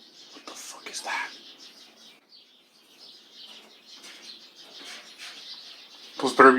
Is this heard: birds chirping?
yes